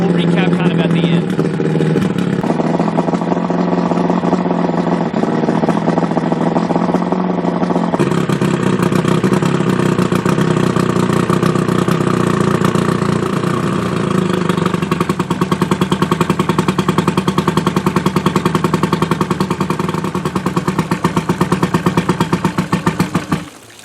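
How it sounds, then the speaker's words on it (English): An outboard motor nearly out of fuel idles and revs in a loud, steady drone, with a step up in pitch partway through, then cuts out at the end. "I'll rev it one or two more times, and then it should die out because it's about empty"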